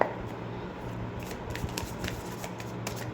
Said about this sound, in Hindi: ओके, सारे कार्ड्स निकाल लेते हैं